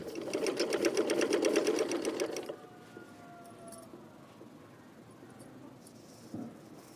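Sewing machine stitching a printed yoke runs at a steady, rapid chatter for about two and a half seconds, then stops, leaving only faint room noise.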